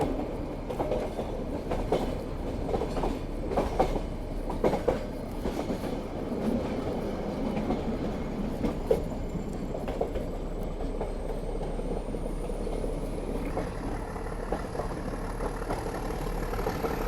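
Nilgiri Mountain Railway toy train climbing uphill toward Ooty, a loud continuous rumble of wheels and carriages with rhythmic clattering from the rails, heard from on board with no talking.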